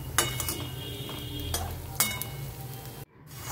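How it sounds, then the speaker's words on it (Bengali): Soft sizzling of banana flower koftas frying in a pan, with a few clinks and scrapes of a utensil turning pieces over. "এবারে সব কটা কোপ্তা আমি উল্টে পাল্টে ভেজে নেব"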